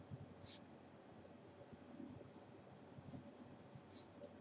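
Faint scratching of a pen writing words on paper in a quiet room, a few soft strokes scattered through low background hiss.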